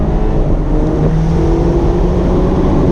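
A 2019 BMW Z4 roadster accelerating hard in second gear out of a right-hand bend, its engine note climbing steadily and loud throughout with a continuous rising drone and no talk.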